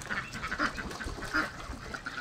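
Several Pekin ducks quack in short, overlapping bursts close by, a busy chatter of nasal calls without any speech.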